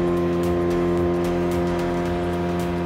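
A high-speed boat's engine drones steadily and loudly throughout a ride, with a strong harmonic hum and rushing water and wind noise, no talking.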